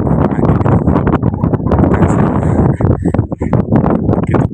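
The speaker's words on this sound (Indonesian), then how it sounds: "Begitu kuatnya angin di sini." Strong wind buffets the microphone on Mount Merbabu, a loud, rough roar with gusty bursts that persists throughout, close and harsh.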